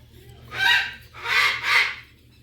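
A bird in a large aviary housing conures, toucans, macaws, cockatoos and cockatiels gives three loud, harsh squawking calls in quick succession over a low background hum.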